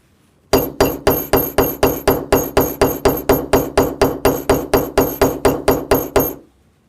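Rapid, steady hammer taps set a brass rivet, about twenty-five bright metallic strikes in even rhythm, close and loud, then stopping.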